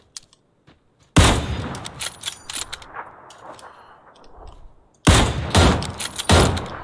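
Rapid gunfire in the video game PUBG comes in two loud, close bursts of quick shots separated by a decaying, echoing tail, after a near-silent start with a few faint clicks.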